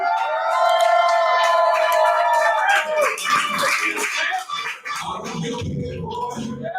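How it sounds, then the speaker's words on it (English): A crowd at a fight event cheering and hollering, loud and close, with high shouts and whoops at first, then a rougher mix of voices and noise. "Listen to this crowd"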